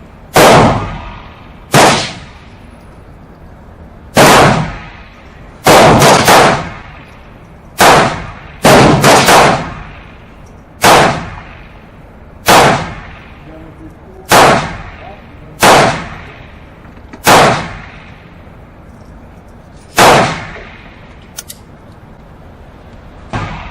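A .22LR handgun fires at an indoor shooting range at 7 yards: about fourteen sharp, loud cracks at an uneven pace, some in quick pairs, each with a short decaying tail.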